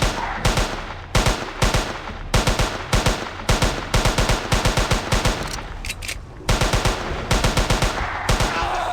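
Rapid gunfire in the Jurassic Park Hunter video game, loud close bursts of automatic shots in quick rhythmic volleys with brief gaps between them, continuing for several seconds.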